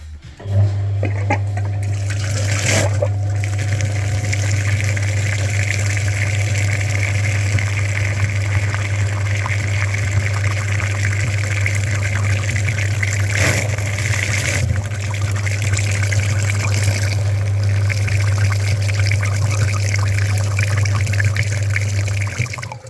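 A radiator flushing machine pumps water through a Daewoo Nexia's dirty cooling system, rushing and gurgling steadily with a constant low motor hum and occasional sloshing surges, close and loud throughout.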